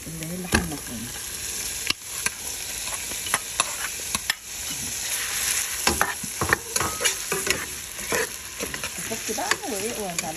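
Minced meat sizzles and fries in a pot, with steady frying hiss and repeated scraping and clanking as a spoon stirs it, loud and close with no talking.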